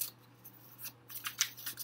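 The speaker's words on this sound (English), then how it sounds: "I do like it because it's very smooth to shuffle it" Zombie Tarot cards being shuffled by hand, a quick run of crisp, close riffling and sliding card sounds in short bursts, with no talk.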